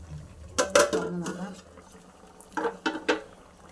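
A metal lid clanks onto a pot of mango curry: a few sharp clatters, a short quiet spell, then more knocks and a scrape, close by, with quiet speech at times.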